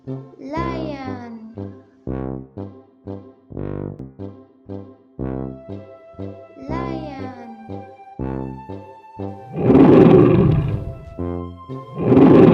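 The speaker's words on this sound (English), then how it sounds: "lion" A lion roars, with a loud, rough, sustained burst near the end, following a run of short repeated voiced calls, some of which resemble a voice.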